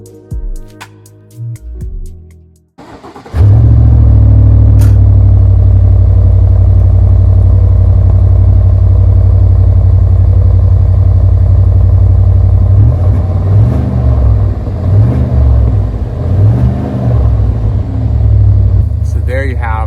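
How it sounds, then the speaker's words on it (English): A Cadillac Escalade's big V8 exhaust fires up after a brief stretch of speech, then settles into a loud, deep rumbling idle, with several throaty revs blipping up and down toward the end. "Let's see what the big V8 sounds like on this old Caddy"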